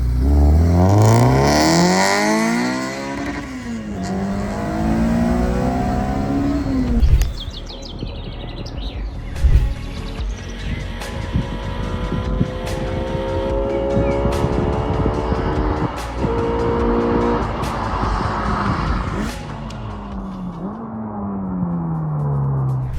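A Honda Civic EG with a tuned B18C swap and sporty exhaust revs hard, its engine note sweeping up and down in loud, close pulls, then settles into a driving drone with shifting pitch.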